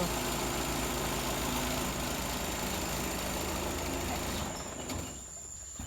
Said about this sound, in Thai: เดี๋ยวให้คุณพ่อดับเครื่องก่อนลูก เพราะว่าเสียงรถดัง